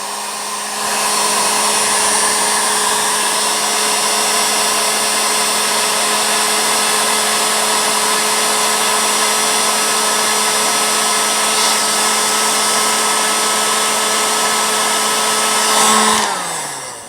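A heat gun shrinking heat shrink tubing on an arrow blows with a steady, loud whirring hiss and a constant tonal whine for several seconds, then shuts off.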